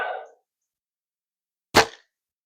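An arrow strikes an archery target at 60 yards: one sharp, loud impact thud after a short fading tail of the shot, then silence.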